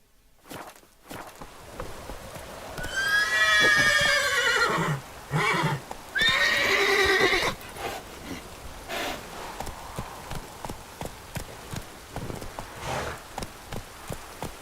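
Geralt's horse Roach in The Witcher 3 video game gives two loud, drawn-out whinnies, then settles into a steady run of hoofbeats clip-clopping at a quick even pace, with no talk.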